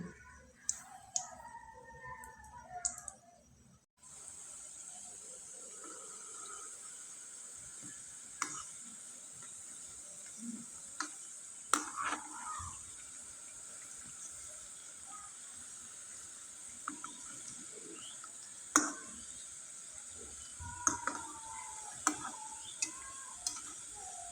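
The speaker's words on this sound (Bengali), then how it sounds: "এখন ভালোভাবে একটু পিঠাগুলো ভেজে নিতে হবে" Pitha cakes made from wheat flour deep-fry in oil with a soft, constant sizzle and occasional ticks and stirring clinks. After a brief quiet start the frying runs on close by at a low level.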